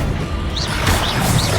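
Bombarda spell blast in the Hogwarts Legacy video game, a short booming crash with whooshing magic effects and sharp hits in quick succession.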